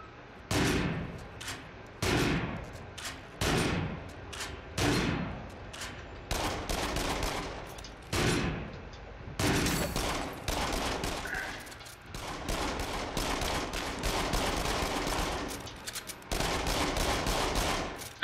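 Rapid bursts of gunfire in the shooter game Until Dawn: Rush of Blood, loud volleys repeating in a choppy rhythm through the whole stretch, near and dense.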